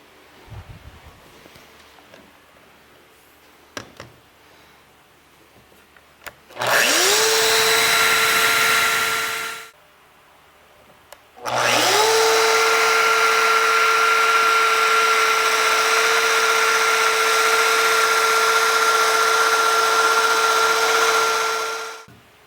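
A large Domino joiner cuts mortises in wooden bench legs, running in two loud close bursts of a few seconds and about ten seconds, each spinning up to a steady whine, with quiet workshop shuffling before.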